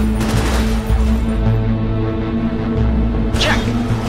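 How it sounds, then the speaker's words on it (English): A machine gun in the video game Cryptark rattles off steady rapid rounds into a target, loud and continuous, ending with a sharp bright burst. "rattle off a few rounds from the machine gun into the target"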